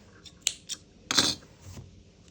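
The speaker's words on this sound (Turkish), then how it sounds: "Hemen buraya bir, iki tane zincir çekip ipimi kesiyorum." Scissors snip crochet yarn at the end of a mesh bag project: a few quick metallic clicks and one longer cutting snip, close and fairly quiet.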